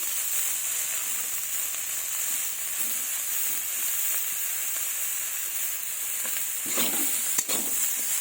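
A spoon stirs tomato through boiled potatoes and carrots in a pan over a steady sizzle, with a few scraping strokes near the end.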